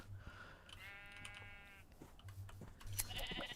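Several wavering sheep bleats in Minecraft, loud and close, with short pauses between them and a low steady hum underneath.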